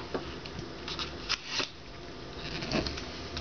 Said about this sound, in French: On peut maintenant rabattre le bas de notre enveloppe.